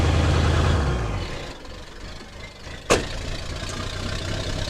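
A truck engine idling in a quiet low-RPM whisper mode after a 1200 RPM high idle, a steady low rumble that drops off after the first second into a soft, even hum with one brief sharp click partway through.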